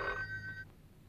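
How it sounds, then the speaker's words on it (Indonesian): A telephone bell rings in a short, loud burst lasting just over half a second, then cuts off, leaving a quiet room. "Ada telepon, Pak."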